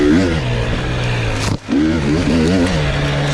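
A KTM 250 XC TBI dirt bike engine revs up and down in rising and falling pitch sweeps, loud and close, with a brief dip in the middle before revving again.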